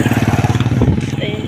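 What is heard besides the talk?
motorcycle tricycle engine passing near school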